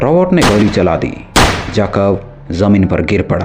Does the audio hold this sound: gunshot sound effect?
yes